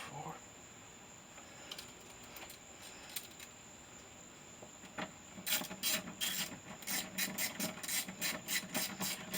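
Screws being snugged into a small plastic insert behind a 2008 Ford Mustang door panel make quiet, scattered clicks, then a denser run of rapid ratcheting ticks near the end, close by with faint background noise.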